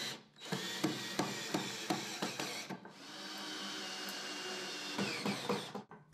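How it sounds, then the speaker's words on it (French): A screwdriver tightens screws into a furniture frame during assembly, with repeated short clicking, ratcheting strokes heard close up and alone, a pause between two runs of turning. "Serrez là où c'est nécessaire avec un tournevis."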